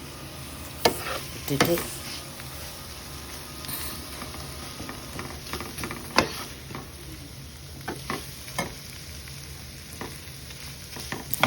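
Chicken with onions and lemon frying in a covered pan for a spicy chicken fry, with steady close sizzling broken by several sharp stirring scrapes and clatters; a brief word is spoken.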